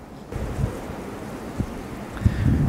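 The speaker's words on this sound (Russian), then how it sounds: "Куски жести на крыше." Wind outdoors shaking loose pieces of tin sheeting on the roof or facade of the Green City Park building in Karaganda, a low steady rumble broken by a few sharp, distant-sounding bangs.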